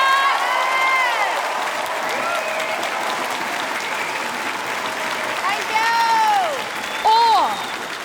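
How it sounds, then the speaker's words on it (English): Audience applause at a live debate show fills the hall as a continuous, dense wash of clapping, with a few voices calling out over it. "By round of applause, mob."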